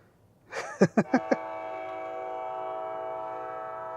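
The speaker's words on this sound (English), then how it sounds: "all them freaking trains, horns going off" A train horn sounds in a few quick blasts followed by a long sustained tone that fades out, with a low rumble underneath.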